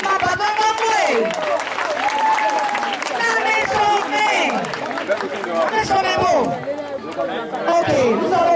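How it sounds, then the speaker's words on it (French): An audience applauds young children at an end-of-year nursery school party, with steady clapping mixed into loud, lively crowd chatter and children's voices close by. "on applaudit nos bébés"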